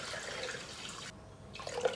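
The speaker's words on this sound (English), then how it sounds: "now we're weighing in 900 grams of water" Water pours steadily into a pot set on kitchen scales, a soft continuous splashing trickle, faint and close, briefly pausing before resuming.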